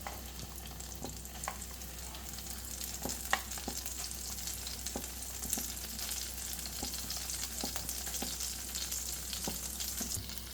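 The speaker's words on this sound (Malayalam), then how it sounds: "ഇതിലേക്ക് നമ്മൾ നേരത്തെ അരച്ച് വെച്ച ആ ഒരു പച്ചമസാല ഉണ്ടല്ലോ അത് ചേർത്ത് കൊടുക്കാം" Ground green masala paste fries in hot oil for an egg curry, giving a continuous close crackling sizzle with occasional soft stirring taps and no voices.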